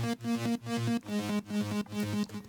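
A second solo synth layer from Flex in an FL Studio track, a rich buzzy tone chopped into quick rhythmic pulses with stepping notes, loud and upfront, with nobody speaking over it.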